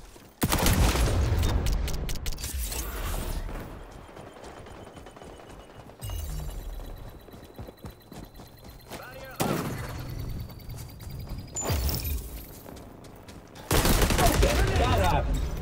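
Rapid video game gunfire in XDefiant, loud bursts of automatic shots and clustered fusillades starting and stopping repeatedly through the stretch, with quieter gaps between volleys and faint speech underneath.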